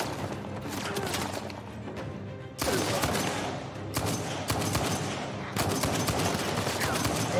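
Dense, sustained gunfire from a shootout in Uncharted 4: A Thief's End, rapid overlapping shots crackling throughout at close range, with a brief dip before the firing surges again.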